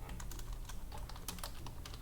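Rapid typing on a computer keyboard while working in Adobe Illustrator, a quick run of close, soft key clicks with no speech.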